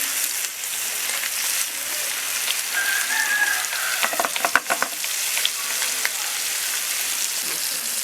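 Fish frying in a pan over a low flame while preparing Kerala-style meen polichathu, a steady soft sizzle with a few brief crackles and clicks of turning the pieces, heard alone without talk.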